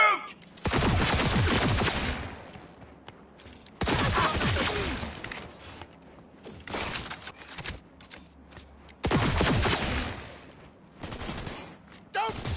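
Bursts of automatic gunfire in the video game Cyberpunk 2077, loud and close, arriving in several long sustained volleys separated by brief quieter gaps.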